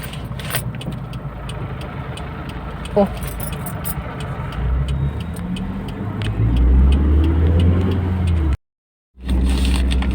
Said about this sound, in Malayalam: ഈ രണ്ട് കാറ് വരുന്നുണ്ടേ.